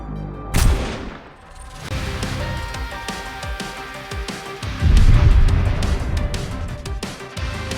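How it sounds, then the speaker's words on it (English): Gunfire from the video game Goddess of Victory: Nikke, a loud sharp shot followed by dense volleys of rapid automatic fire and booming impacts layered with game music, continuing throughout. "Other raptures in the area heard the gunshot and are converging."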